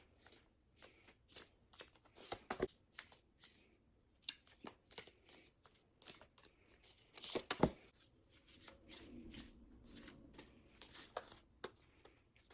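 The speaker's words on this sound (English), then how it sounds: "I'm going to be shuffling these cards" Thick oracle cards being shuffled by hand, a run of quick crisp riffling and slapping bursts with brief pauses between them, close and clear with no voices.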